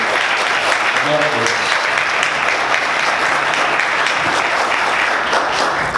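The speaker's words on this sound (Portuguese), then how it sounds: "Vamos aplaudir o Senhor bem forte, amém?" A church congregation claps loudly and continuously during a worship service, a dense, even wall of applause, with a voice briefly audible early on beneath it.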